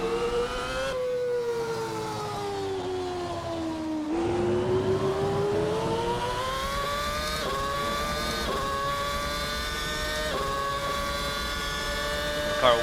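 A 2007 McLaren MP4/22 racing car in a racing video game, its 2.4-litre Mercedes V8 screaming at high revs. The pitch climbs and drops sharply through repeated gear changes in a continuous loud whine with no voices over it.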